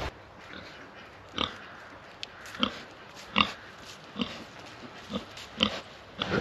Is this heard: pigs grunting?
yes